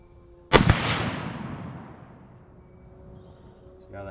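A single rifle shot fired at a target, topped with Bushnell sights: one sharp, loud crack followed by a long rolling echo that fades over several seconds, with a faint noise at the very end.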